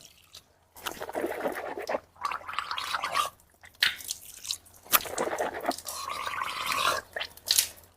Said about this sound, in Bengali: যদি রোজা না থাকো তাহলে এইভাবে গড়গড়া করা লাগবে